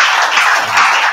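A seminar crowd at the Global Wealth Creation Summit 2021 claps in one short, loud, steady burst of close, dense clapping.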